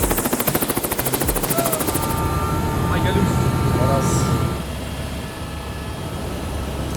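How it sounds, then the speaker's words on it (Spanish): Helicopter in flight, its rotor throbbing as a loud, steady chop with heavy engine roar close by, while a person speaks briefly over it. "vamos a hacer un poco de helicóptero"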